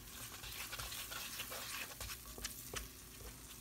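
Butter and flour being stirred in a pan for a Cajun etouffee roux, a faint, steady sizzle with soft scraping and light patter, no voices.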